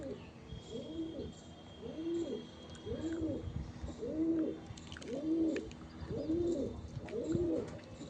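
Fulsira, Kalanka and Madrasi pigeons, a master pair, coo close by in a regular rhythm of about seven repeated rolling, throaty calls roughly a second apart, with faint background noise.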